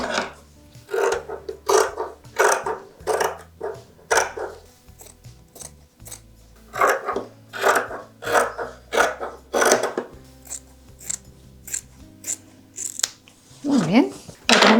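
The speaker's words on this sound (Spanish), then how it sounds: "El forro lo vamos a cortar exactamente igual." Scissors snip through fabric lining for a patchwork appliqué case, a steady run of crisp close cuts in bursts, with a brief pause around the middle and soft background music.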